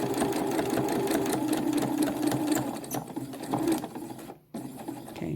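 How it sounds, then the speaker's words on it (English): Sewing machine stitching fabric for a festive corn decoration, presser foot along the fabric edge: a steady, fast mechanical whir with rhythmic needle chatter, close and loud, which slows and briefly stops near the end before starting again. "Keep your presser foot aligned with the edge of your fabric. And keep sewing."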